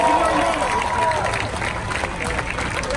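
Applause from an audience at a Fuerza Bruta show at the Singapore Night Festival, cheering the crew with a steady wash of clapping and crowd noise beneath a voice talking over it.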